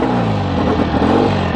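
A 1965 BSA Thunderbolt 650 motorcycle engine catches after a single kick and runs with a loud, close, throbbing idle that stays steady throughout.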